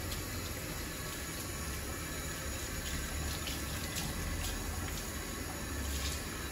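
Running water from a barber's sink tap rinses hair in a steady, close gushing stream that fills the whole moment without any talking.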